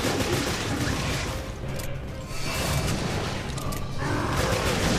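Shotgun blasts in Resident Evil: Revelations: heavy, dense broadband blasts packed close together, loud and near, with little quiet between them and a brief dip in the middle of the barrage.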